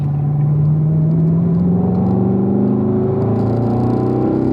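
A race car engine winds up under throttle on a track, its loud, close tone climbing steadily in pitch as the car accelerates, with no voices over it.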